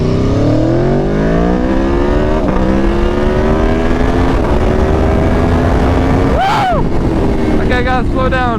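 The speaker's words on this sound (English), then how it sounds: "I'll give you guys a short little pull here, that way you can see the power." Aprilia Tuono V4 1100 motorcycle pulling hard through the gears, a loud rising engine note climbing and shifting over heavy wind rush, with a sharp rev sweep near the end.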